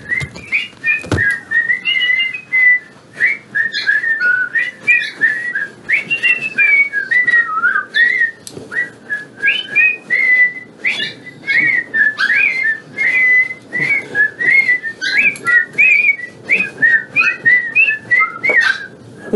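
A person whistles loudly and close, a continuous run of quick warbling, chirpy notes with brief gaps, sounding almost birdlike throughout.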